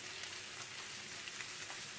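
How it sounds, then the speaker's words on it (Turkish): Onions, minced meat and garlic fry in a pan for a Turkish eggplant moussaka, giving a steady, faint, even sizzle with no voices. "Bak iyice soğanımız, kıymamız kavruldu."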